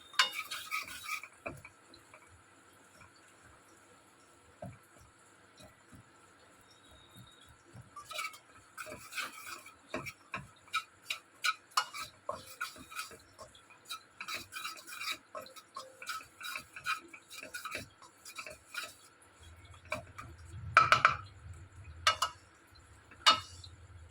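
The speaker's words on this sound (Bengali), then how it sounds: "সর্ষের তেলটা দিয়ে এই গ্যাস কমিয়ে এটাকে নাড়তে হবে" Gram flour and mustard oil stirred in a pan over low gas, a quiet stretch followed by rapid repeated scraping and tapping of a spoon against the pan, close and fairly soft, with a brief low rumble near the end.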